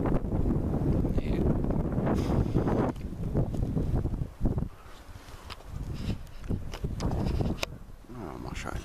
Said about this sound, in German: Oder Wind ist.